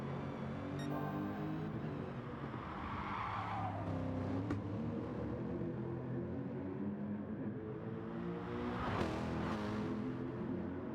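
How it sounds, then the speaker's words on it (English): Race cars lapping the Nürburgring Nordschleife in a racing video game during a 24-hour endurance race, engines droning steadily with repeated tire squeal and skidding through braking zones, a continuous loud mix with no voices. "And Senna outbrakes Giant Tonic and goes past at the Wedal chicane"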